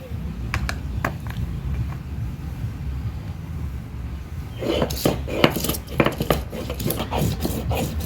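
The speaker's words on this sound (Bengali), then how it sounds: "আম্মা বাটাবাটি করতেছে কাঁচামরিচ বাড়তেছে" Spices and green chilies are ground on a grinding stone in a village kitchen, a rhythmic rasping scrape that starts faint and becomes a loud run of repeated strokes, with talking throughout.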